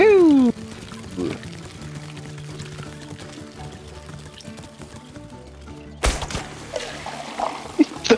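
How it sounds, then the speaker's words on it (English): In the video game It Takes Two, water is poured onto a plant, a continuous trickling and splashing pour that runs for several seconds under game music and sound effects, with people talking over it. "and then we just guzzle it up with water"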